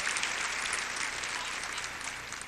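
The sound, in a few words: church congregation applauding the orchestra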